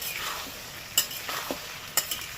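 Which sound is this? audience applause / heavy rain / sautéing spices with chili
sautéing spices with chili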